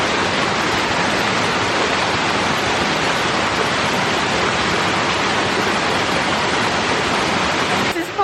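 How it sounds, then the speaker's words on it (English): Ladygrove Waterfall in the Peak District pours in a loud, steady roar of falling water, a dense unbroken rush that holds constant throughout with no voices over it. "we have found Ladygrove Waterfall. And it is stunning."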